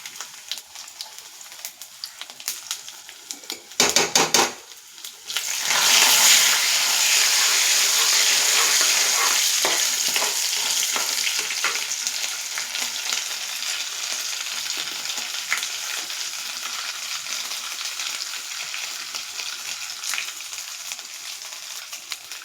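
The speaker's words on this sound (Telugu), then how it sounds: "ఆయిల్ వేడయింది, పోపు వేస్తున్నాను" Tempering spices of dal, garlic, dried red chillies and curry leaves hitting hot oil, a few clatters then a loud burst of sizzling that settles into a steady crackle, continuing alone.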